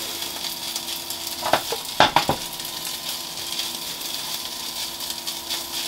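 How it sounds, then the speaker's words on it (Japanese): Fried rice cooks in a hot pan, a continuous soft sizzle of frying with a few sharp clinks and scrapes of stirring near the middle, moderately quiet and steady throughout. "よし、このままちょっと炒めます。"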